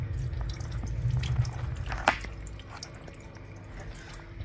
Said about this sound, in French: il va faire sa vidange comme ça